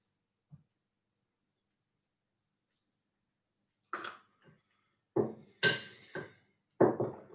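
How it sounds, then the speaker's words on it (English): A spoon stirring double chocolate muffin batter in a bowl after a silent start, with four or five close scraping knocks and clinks against the bowl in the last few seconds and no talking. "So just give that a little stir around."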